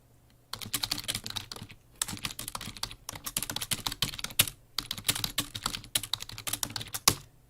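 Rapid bursts of typing on a computer keyboard during a livestream chat, dense clacking keystrokes in several runs separated by short pauses, close and fairly quiet with no voice.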